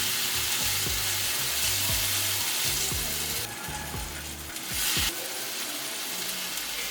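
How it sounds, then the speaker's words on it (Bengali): Carrot paste frying in ghee in a pan, a steady close sizzle with repeated scraping strokes of a stirring spoon. "এবার গাজরের এই পেস্টটা ঘিয়ের সাথে 2-3 মিনিট ভালো করে ভেজে নিব"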